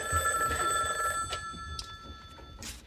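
A telephone bell rings in an office at a construction company, loud ringing bursts with steady tonal overtones in the first half and shorter bursts later.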